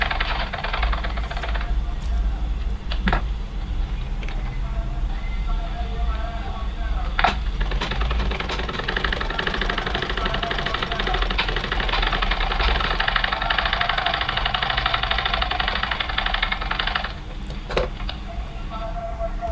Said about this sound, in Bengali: দুই পাশ আমি আগে সেলাই করে নিচ্ছি